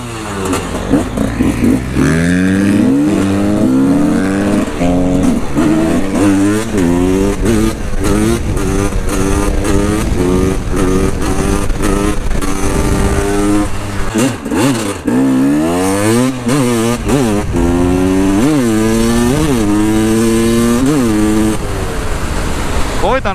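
A KTM EXC 300 dirt bike engine revs hard while riding, its two-stroke pitch repeatedly climbing and dropping through gear changes and wheelies, loud and close throughout, with riders talking over it.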